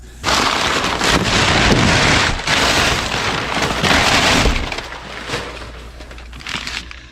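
Loud, continuous crinkling and rustling of packaging as Pangea bicycle handlebars are unwrapped, close to the mic for several seconds, then tapering into quieter scattered crackles.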